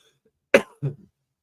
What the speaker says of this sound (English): Sorry, I have something going on here, a little bit of a cough.